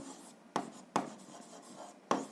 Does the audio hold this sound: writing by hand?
yes